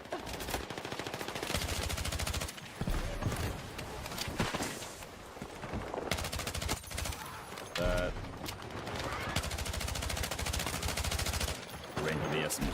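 Rapid SMG bursts in a Battlefield 6 firefight, dense automatic fire crackling almost continuously at close range with brief pauses and stray thuds.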